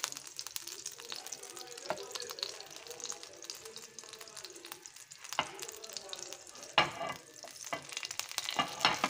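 Bread slices toast in a buttered pan for a milkmaid-and-coconut snack, giving a soft, steady sizzle with scraping and a few sharper clinks and taps. It grows busier toward the end, and a little faint talk appears now and then.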